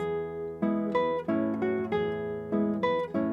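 Clean plucked classical guitar notes sound one after another, each decaying quickly and stopping abruptly rather than ringing into the next.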